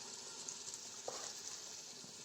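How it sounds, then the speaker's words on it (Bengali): Raw jackfruit and beef shank frying over a clay stove give a steady, faint sizzle with a soft crackling hiss throughout, a small pop near the middle. "কাঁচা কাঁঠাল দিয়ে গরুর মাংস এটা ভাজা হইব"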